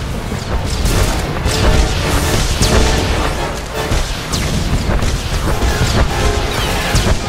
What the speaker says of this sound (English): here the droid is launching another missile barrage